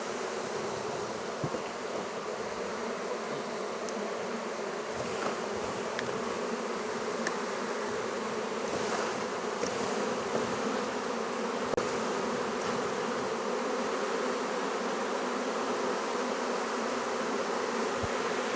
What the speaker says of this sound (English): the limbs down with the bees on it, and then shaking in that section of bees